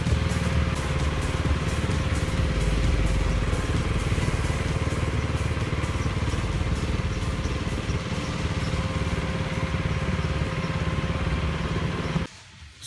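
Steady motorcycle engine drone while riding toward Tepoztlán, a continuous low rumble with wind noise that holds evenly for about twelve seconds before cutting off abruptly at the end.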